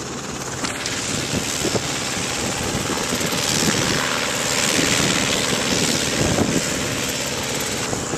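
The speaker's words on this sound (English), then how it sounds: "there's a gazelle here, military helicopter that's just going" A Gazelle military helicopter passes overhead, its rotor and engine roar loud and steady for several seconds, swelling slightly as it comes nearest, with no talk.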